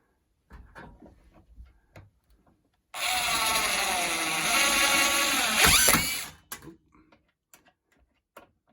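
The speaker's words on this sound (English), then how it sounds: "I'm gonna go ahead and use my cordless with a Phillips tip in there to drive these suckers in" A cordless drill fitted with a Phillips tip drives screws into the bottom track of a RELIABILT Bethany mirror sliding closet door: one steady whirring run of about three seconds that rises briefly near its end, with soft handling clicks before and after.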